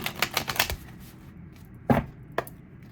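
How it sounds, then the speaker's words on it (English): A few quick papery riffles and slaps of tarot cards being shuffled, followed by two sharper isolated snaps, close up in a quiet room. "I'm gonna shuffle one more time"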